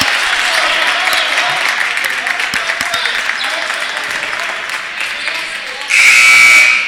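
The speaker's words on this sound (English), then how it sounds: "Gets a round of applause from his teammates" Sustained clapping from a crowd at a basketball game fills the space, then a loud buzzer blares near the end, cutting across the applause.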